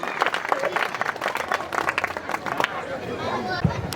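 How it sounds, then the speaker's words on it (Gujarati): An audience at a village temple consecration folk dayro in Ingorala claps together, a busy wash of applause with crowd murmur and voices talking over it throughout. "ત્યાં જોરદાર તાળી સાથે આપણે એમનું સન્માન કરશું."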